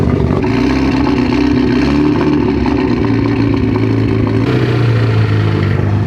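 A flood-damaged Mitsubishi Evo engine idles roughly and loudly up close, a steady heavy mechanical drone with uneven clattering and a shift in pitch partway through.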